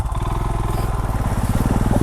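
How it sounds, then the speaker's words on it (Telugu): A motorcycle engine runs rough and sputtering after the bike went through a deep water crossing near a waterfall, a loud, close, rapid uneven chugging pulse throughout. "బండి స్టార్ట్ అవ్వట్లే, వాటర్ లోపలికి వెళ్ళిపోయినాయి."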